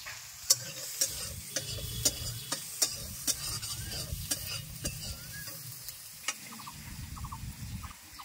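Ground cumin and turmeric frying in a pan for a bhindi posto dish, a steady close sizzle broken by repeated sharp scrapes and taps of a spoon stirring, with no talking.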